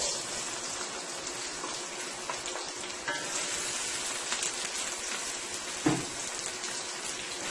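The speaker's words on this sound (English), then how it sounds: "I am going to go ahead and add my 1 onion thinly sliced and my 5 cloves of garlic into my oil" Thinly sliced onion and garlic sautéing in hot olive oil: a soft, continuous sizzling hiss with a few faint pops and one brief knock, heard close with no voices.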